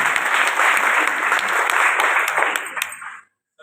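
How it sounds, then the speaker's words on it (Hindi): At a three-day company seminar, an audience breaks into loud, dense applause with a few sharp individual claps standing out, sustained briefly before stopping abruptly into silence. "एक बार जोरदार तालियां हो जाएंगे"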